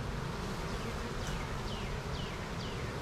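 Dense, steady buzzing of honey bees around an open hive, close and continuous, with individual bees whizzing past now and then.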